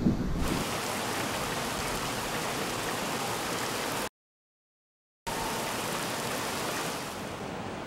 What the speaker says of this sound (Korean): 오랜 가뭄을 깨고 도시에 비가 내린다.